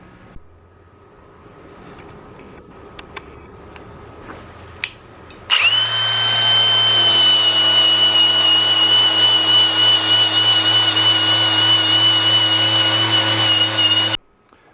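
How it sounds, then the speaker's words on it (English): A loud, steady power sander whirs on abruptly after quieter handling noises, sanding an old metal brake rotor, and runs continuously for several seconds before cutting off. "So we finished up sanding"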